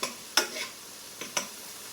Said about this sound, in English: just sort of mix it in with the vegetables that are sauteing